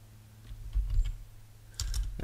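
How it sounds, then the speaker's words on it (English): Typing a word on a computer keyboard, heard as two short bursts of close, quick keystrokes separated by a brief pause, with no talking. "Let's just type a random word in"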